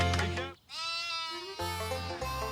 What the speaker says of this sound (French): Les Stott ont 29 moutons